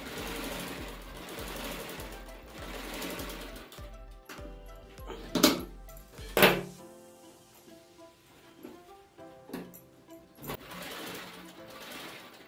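A sewing machine stitches a hand-model saree blouse, running in a fast steady whir for a few seconds, then a couple of loud knocks and handling noises before it starts stitching again.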